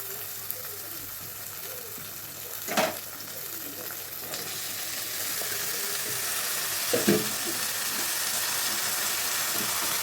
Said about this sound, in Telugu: ఇంకా దొండకాయలు అయితే వేగిస్తున్నాను